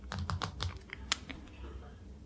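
Keys tapped on a computer keyboard during a French real-estate agency roleplay, a quick run of crisp, close clicks that tapers into a few scattered taps, with no talking over them.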